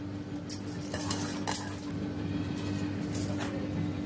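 Coriander and spices are mixed by hand in a mixing bowl, giving soft scraping with a few sharp clinks of a spoon against the bowl, close and fairly quiet.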